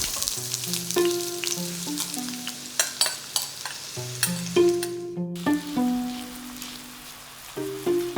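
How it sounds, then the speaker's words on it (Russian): A large amount of onion sizzles and crackles steadily as it fries very slowly in a pan under gentle melodic background music, a soft continuous frying hiss. "Лук, довольно много лука, который мы будем жарить очень медленно, очень осторожно"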